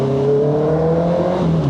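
Honda CBR650R inline-four motorcycle engine from 2025 fitted with an aftermarket pipe, holding a steady, loud droning hum with a slight rise in pitch near the end, with no voices.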